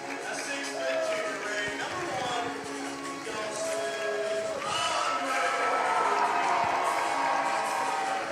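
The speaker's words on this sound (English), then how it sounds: "Listen to the crowd cheering on the Tigers on senior night." A gym crowd at a high school boys basketball game on senior night cheers for the Salem Tigers, a dense roar of voices with whoops rising and falling, under an announcer talking.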